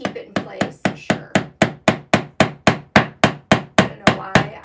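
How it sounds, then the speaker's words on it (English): A hammer taps upholstery tacks into grain sack fabric in a fast, even series of about twenty crisp, close strikes, each ringing briefly, with no talk. "I was just channeling my dad today with this hammer."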